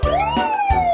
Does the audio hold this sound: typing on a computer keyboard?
no